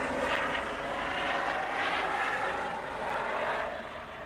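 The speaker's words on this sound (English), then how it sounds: "I'm gonna let the helicopter go." A helicopter flying overhead makes a steady, loud roar of engine and rotor noise that runs unbroken for several seconds, swelling slightly and then easing off toward the end.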